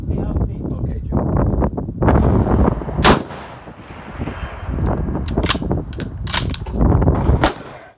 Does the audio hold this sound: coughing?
no